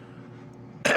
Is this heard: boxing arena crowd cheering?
no